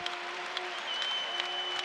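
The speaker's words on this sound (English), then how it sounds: "It's the loudest this crowd has been all night" Crowd at a college volleyball match, an NCAA second-round game between Kansas and Creighton, cheering and applauding in a steady, fairly distant roar with scattered claps and a sustained whistle-like tone over it.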